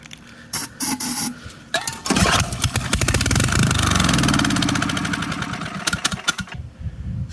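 An 8 horsepower Tecumseh small engine, unused for about ten years, pulls over a few times, then catches and runs with a loud, steady, close-up putter before settling toward idle.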